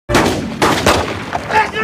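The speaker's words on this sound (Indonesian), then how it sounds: "tiba-tiba saja beberapa kali tembakan dilepaskan dari arah hutan." Several loud gunshots ring out from a forest in quick succession, close and sharp, each blast leaving a rough echoing tail.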